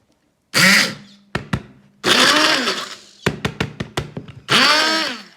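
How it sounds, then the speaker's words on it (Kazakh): A kitchen blender whirs through lemons for a cold-remedy lemonade, running in several long loud bursts broken by a quick series of short pulses, close up with no talking. "Енді тағы да блендермен айналдырып жібереміз."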